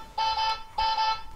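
A toy food-delivery scooter sounds its electronic horn: two bright, steady tonal beeps of about half a second each, separated by a short gap, close and alone with no talk.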